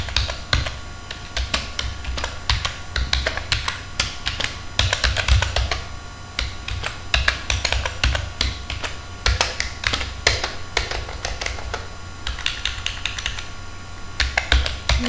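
Steady, rapid clatter of fingers typing code on a computer keyboard, close and fairly loud, with short pauses between bursts and no talk.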